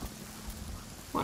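Rain begins falling in the survival video game Sons of the Forest, a steady soft broadband hiss that holds evenly throughout, with a brief louder sound near the end.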